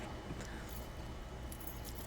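Keys jingle in The Texas Chain Saw Massacre video game, a soft metallic rattle with a few brighter clinks over a steady, noisy game background.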